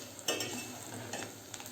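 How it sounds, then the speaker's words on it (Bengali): Onion, garlic and dried chili being stir-fried for beef kala bhuna, a soft sizzle under brisk scraping strokes of a spatula, fairly quiet and close. "তো এভাবে নেড়ে নেড়ে যে উপকরণগুলো এখানে দিয়েছি পেঁয়াজ, রসুন আর শুকনো মরিচ,"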